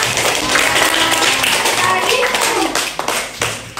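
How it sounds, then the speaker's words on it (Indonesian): A school class breaks into applause, a loud, dense, steady patter of many children's hands clapping close by, with children's voices mixed in underneath. "kasih tepuk tangan dong"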